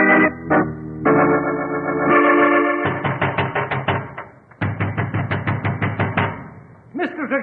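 A fist pounds on a door at night in a 1949 radio drama, with rapid bursts of loud, close knocks separated by short pauses, set against a sustained musical tone.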